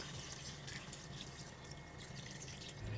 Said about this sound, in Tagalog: naglagay na rin ako ng tubig